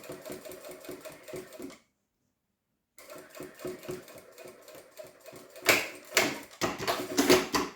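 A sewing machine stitching right along the edge of a fabric keychain, rapid rhythmic needle clatter in close bursts, pausing for about a second before running again faster and louder.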